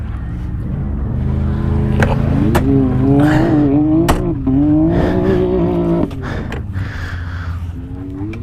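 A Can-Am Maverick side-by-side runs off-road in two-wheel drive, its engine droning loud and close with rising and falling revs throughout, tire and terrain noise mixed in.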